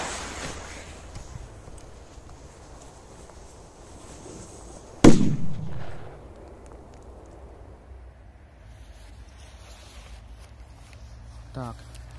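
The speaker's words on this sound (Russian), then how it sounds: "Вот такая розочка со взрывом." A single sharp firework blast, a rose-shaped burst with a bang, cracks out at night amid steady background noise and murmur, followed by a crackling decay over about a second.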